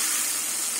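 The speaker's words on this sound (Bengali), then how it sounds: "এবার চিংড়ি মাছগুলো ভেজে নেব" Shrimp coated in salt and turmeric fry in a pan with a brief, steady, bright hiss of sizzling oil, close and unbroken.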